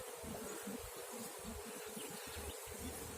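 Honeybees buzz steadily around a hive frame holding bee bread and nectar, a dense, continuous low drone that stays close and even throughout with no voices.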